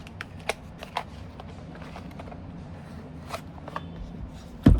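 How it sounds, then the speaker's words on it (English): Tea leaf fortune cards being shuffled by hand: soft, scattered riffling and card snaps at close range over a quiet background, ending in a louder thump, with no talking. "Now I feel like pulling from our tea leaf fortune cards."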